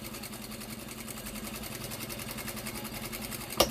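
A sewing machine topstitches about 0.5 cm from the edge of a fabric wipes bag, running in a fast, even mechanical rhythm for several seconds before a brief clack at the end.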